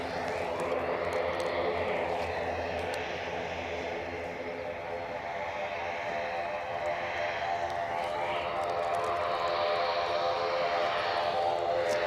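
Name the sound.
ATR turboprop aircraft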